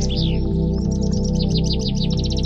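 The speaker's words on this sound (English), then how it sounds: "Chaffinch." A chaffinch sings a rapid descending trill of bright chirps ending in a quick flourish, heard over a steady low musical backing.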